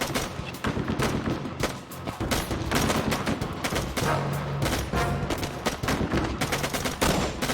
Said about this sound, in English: The rescuers were pinned down by enemy gunfire.